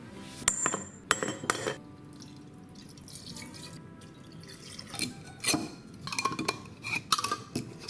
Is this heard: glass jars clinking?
yes